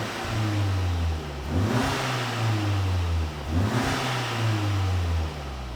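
A Cupra Ateca with its GPF/OPF deleted, in sport mode with valves closed, revs twice: a steady idle drone swells into two loud, rising-then-falling engine and exhaust sweeps, heard from inside the car.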